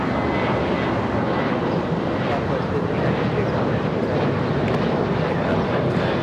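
A Boeing 787 Dreamliner jet passes at an airport, its steady, loud broadband engine roar filling the air continuously without letup, with some wind buffeting on the microphone.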